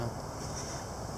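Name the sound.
gusty wind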